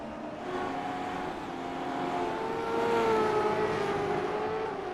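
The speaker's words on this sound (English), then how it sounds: "Whole group of cars came out all together there." A pack of V8 race cars in a racing simulator at Circuit Gilles Villeneuve, engines droning together and rising and falling in pitch as the group accelerates and passes, with no voices.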